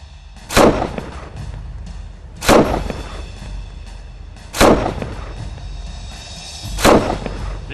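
Sniper rifle fire in a war film: four loud, sharp booming shots at roughly two-second intervals, each ringing out with a short echoing tail, and no talking in between.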